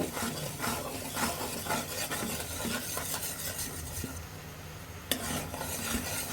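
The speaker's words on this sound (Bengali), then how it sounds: "দুধটা ভালোভাবে ফুটিয়ে নিতে হবে" Milk simmers in a pot with ghee and golden caramelized sugar for popcorn, stirred steadily by a utensil. A continuous scraping, bubbling texture is close and fairly loud, with brief lighter clinks near the end.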